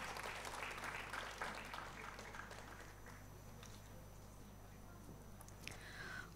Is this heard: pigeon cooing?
no